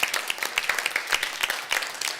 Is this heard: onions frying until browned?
no